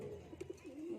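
Pigeons in a loft with nests and eggs give a few soft, throaty coos in a quick short cluster followed by a drawn-out low coo, faint and nearby with no talking.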